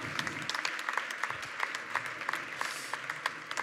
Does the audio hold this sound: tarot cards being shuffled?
no